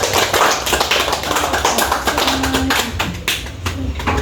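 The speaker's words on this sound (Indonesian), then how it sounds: "Tepuk tangan dulu buat semuanya" Dense, rapid hand clapping from a school audience at an elementary school event in Makassar, loud and close, continuing steadily without pause.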